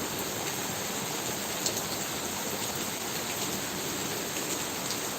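Steady rain pours down in a dense, unbroken hiss, close and even throughout, in a village setting near a shop.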